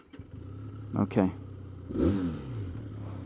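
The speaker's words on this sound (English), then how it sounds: "Let's listen to the engine." A Benelli 502C motorcycle engine idling with a low, steady rumble, with two quick revs and then a longer throttle blip, heard close up while someone says a brief word.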